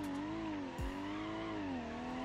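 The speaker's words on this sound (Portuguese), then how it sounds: "o que é que esse carro tá patinando tanto?" A car in the BeamNG.drive racing game spins its tires, with a sustained engine drone whose pitch wavers, plus a brief skid burst partway through, heard fairly faint and without talk.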